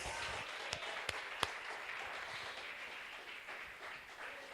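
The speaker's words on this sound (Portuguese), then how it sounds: "Pode aplaudir com orgulho, porque pela graça você é salvo." Congregation applauding during a church service, a steady wash of hand clapping from a crowd, fairly distant and soft, with a few sharper individual claps standing out near the start.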